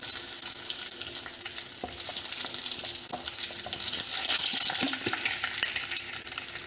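Dried chilies and cumin sizzle and crackle steadily in hot oil, close up, with occasional sharper pops and light stirring noises over the continuous frying hiss.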